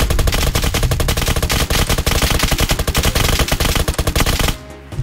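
Sustained machine gun fire in Roblox Apocalypse Rising 2, a loud, dense stream of rapid shots for several seconds that cuts off abruptly near the end.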